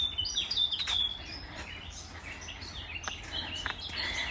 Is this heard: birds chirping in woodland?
yes